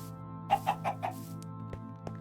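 A chicken in a video game clucks four times in quick succession, clear and close, followed by a couple of softer clicks over a steady humming game background.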